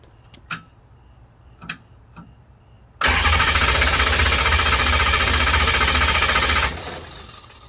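Starter cranking the engine of an M1152 military truck: a few faint ticks and knocks, then a loud, steady, grinding crank that runs about four seconds before stopping, heard close with no talking.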